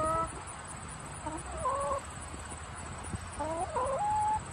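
A hen clucks in short, soft bursts, a few calls rising and falling close by over a steady background hum.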